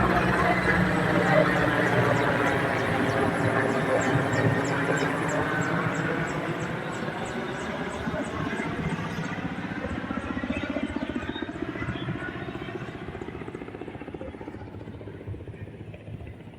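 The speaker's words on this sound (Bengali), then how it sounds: "এটা বাংলাদেশ সেনাবাহিনীর হেলিকপ্টার" A Bangladesh Army helicopter passing overhead, its rotor chop steady and prominent with a pitch that slides downward as it moves away, then fading toward the end; a voice can be heard speaking briefly in the background.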